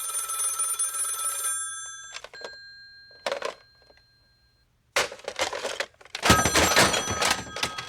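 A telephone bell rings steadily for about two seconds, then stops, followed by a thunk and a loud, clattering crash of breaking objects.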